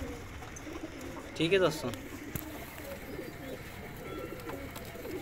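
Pigeons in a loft holding many breeds, with one brief soft cooing call in the middle and faint bird sounds around it, under someone talking.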